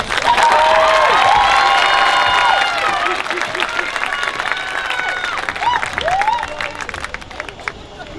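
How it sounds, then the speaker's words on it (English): Loud, sustained applause from a large crowd at a high school graduation ceremony, with cheers and whoops, clapping dense at first and thinning slightly toward the end. "Let us give this row a round of applause."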